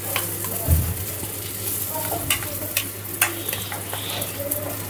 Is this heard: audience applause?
no